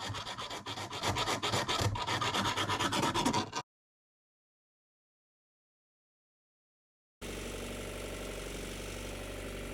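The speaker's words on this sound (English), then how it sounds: "so Curtis had to file them out in order to make them line up" A hand file rasps out misaligned drilled holes in a sailboat drive part, with rapid, close scraping strokes for about three and a half seconds. A silent gap follows, then a steady mechanical drone.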